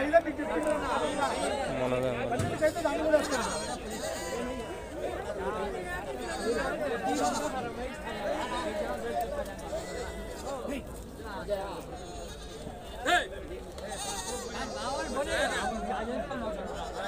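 Sheep and goats bleat repeatedly at a busy weekly livestock market, their calls mixed into steady crowd chatter and nearby talking.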